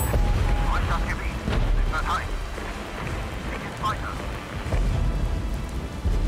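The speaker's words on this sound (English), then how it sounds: "Is that cluster bombs?" Cluster bomb explosions in the Regiments war game, a rolling chain of deep booms and rumbling blasts at a distance, overlapping into a continuous thunderous roar with sharper cracks scattered through it.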